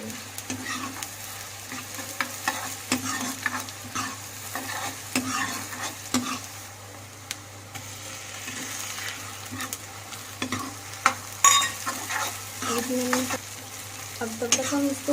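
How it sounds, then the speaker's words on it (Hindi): Chopped onions and tomatoes frying in a pan for aloo matar curry, a continuous close sizzle with frequent stirring scrapes and clicks, louder in places near the end. "अब तब तक हम इसको फ्राई करेंगे"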